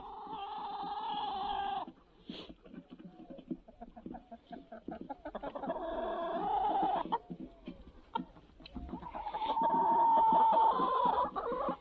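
Backyard hens and roosters clucking and calling during a Sunday morning feeding, a steady close flock chatter with bursts of louder calls and brief pauses.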